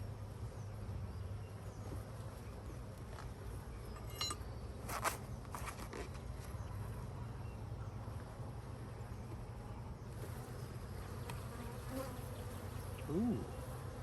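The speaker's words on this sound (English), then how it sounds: "got a lot of good bee action here" Honey bees swarm and buzz steadily around an open hive during an inspection with organic mite treatment, a dense close insect drone running the whole time, with a few faint clinks and taps from handling the frames.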